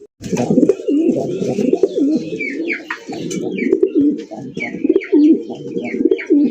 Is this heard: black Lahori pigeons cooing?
yes